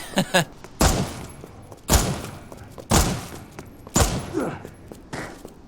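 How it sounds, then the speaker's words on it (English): Four evenly spaced, loud Matilda handgun shots in the game Resident Evil Re:Verse, each a sharp crack about a second apart, with faint game noise between them. "I'm gonna shoot this hunk in the back"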